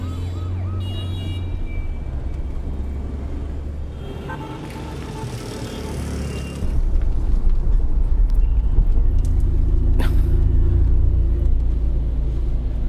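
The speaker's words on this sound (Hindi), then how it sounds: "ट्रैफिक बहुत है, लगता है चेकिंग हो रही है।" Heavy road traffic at a congested checkpoint, with a steady low rumble of engines and passing vehicles, a siren-like wail rising over the din, and the noise swelling louder partway through.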